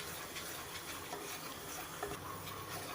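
Gram flour is stirred and roasted in a pan, giving a soft, continuous dry hiss with faint scraping, quiet and close, with no voices.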